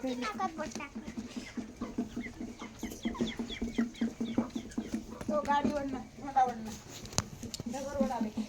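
Chickens cluck and call in repeated bursts nearby, with a hen's drawn-out squawks over a low background murmur.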